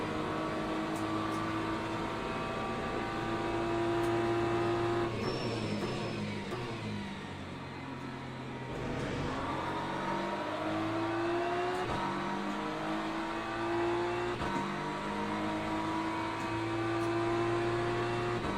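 Audi, BMW and Lamborghini race cars in Le Mans Ultimate howl steadily through gear changes, engine pitch climbing and dropping in a continuous loud drone with a brief dip partway through, no voices present.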